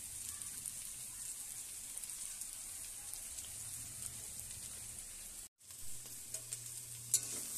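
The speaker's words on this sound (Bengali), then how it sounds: "এদিকে আমার ডালটাও ফুটতে শুরু করেছে" Dal (lentil soup) comes to a boil in a pressure pot, giving a soft steady bubbling hiss with faint crackles and a brief dropout near the end.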